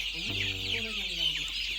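Young Andijan black chicks at a poultry farm give a few short clucking calls up close, with faint high chirping in the background.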